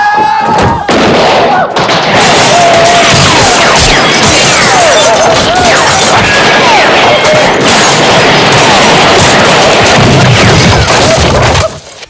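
Loud, dense Western shootout with rapid gunfire and booming explosions, continuous overlapping shots and crashes at close range, ending abruptly.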